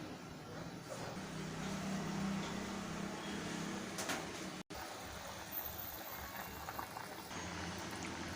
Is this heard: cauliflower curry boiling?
yes